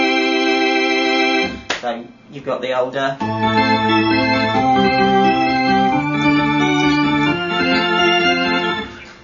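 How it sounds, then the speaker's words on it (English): A Vox Continental electronic organ plays sustained, buzzy chords that shift through several held notes, loud and bright. A brief spoken remark interrupts near the start. "it's an electronic organ that was used"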